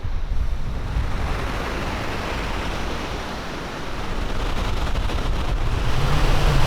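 Ocean surf at a beach with strong current rolls and washes in a continuous loud roar, swelling steadily toward the end, with no voices.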